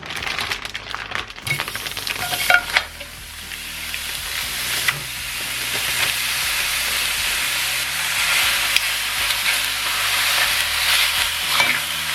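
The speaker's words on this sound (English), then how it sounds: "Ready for that sizzling." Goat meat for Jamaican curry sizzles loudly in a hot pot, a steady hiss of frying with a few clanks and stirring sounds near the start.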